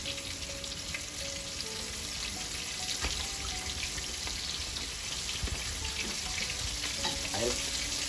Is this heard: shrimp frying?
yes